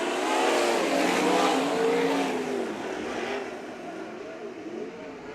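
Race car engines roar steadily and loud through a dirt-track heat race at Bakersfield Speedway, several cars blending into a continuous droning whine that fades slightly toward the end.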